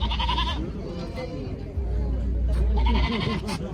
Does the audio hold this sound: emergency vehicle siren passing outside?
no